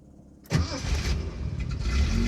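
A 1973 Datsun 240Z cranks and fires up, its engine catching abruptly after a quiet moment and settling into a steady, rumbling run close by.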